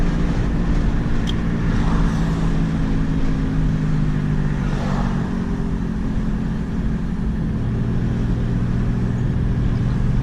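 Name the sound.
Pontiac Grand Prix GTP car driving on road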